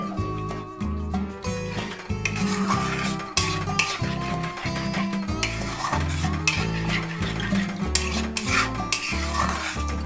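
A ladle stirs and scrapes chhena kalia, a Bengali cottage cheese curry seasoned with salt, in a pan. The strokes are rhythmic, repeated and close, with a soft sizzle beneath and no talking.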